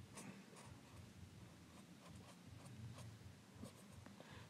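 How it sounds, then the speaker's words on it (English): Pen scratching across a piece of cloth while signing it, faint rustling strokes in short irregular bursts over a low background hum, with no voice. "this is not easy to sign a piece of cloth, let me tell you"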